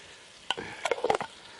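Garlic hitting hot oil in a cast-iron camp oven over an outdoor fire, a few sharp crackling spits and stirring scrapes in quick succession, close and fairly quiet.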